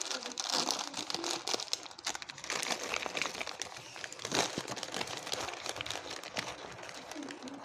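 A paper packet from a carton of prize sweets being opened, with crisp crinkling and tearing rustles that crackle on and off for several seconds, close and fairly quiet.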